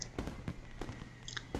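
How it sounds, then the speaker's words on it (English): Fireworks bursting over a school at night in the visual novel game Katawa Shoujo, a few quiet, quick popping cracks spaced unevenly and heard faintly. "Fireworks."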